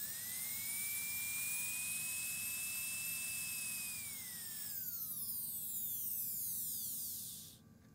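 A GraverMach 850 rotary handpiece, plugged into the back of the machine and driven by the auxiliary control, runs with a steady high-pitched whine that holds, then winds down and fades out near the end.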